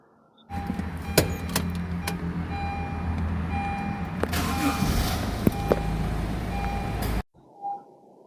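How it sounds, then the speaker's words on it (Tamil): A 2019 used car's power window motor runs steadily for several seconds inside the cabin, a continuous whirring hum with a few faint clicks, ending with a short thump as the glass stops. "ஸோ பவர் விண்டோ பாருங்க பவர் விண்டோலாம் உங்களுக்கு பக்கா ஒர்க்கிங் கண்டிஷனு"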